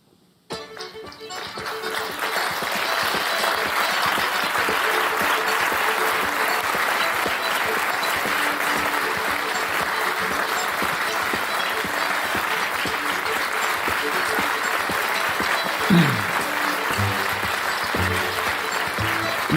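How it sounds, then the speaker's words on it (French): A theatre audience applauds the actors of the Côte à Côte company after a play, steady dense clapping sustained loudly for the whole stretch, with a brief low voice near the end. "Merci d'applaudir chaleureusement les comédiens du théâtre Côte à Côte"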